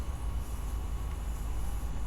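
A Santa Fe locomotive in Train Sim World 2 runs with a steady, heavy low rumble that continues unbroken throughout.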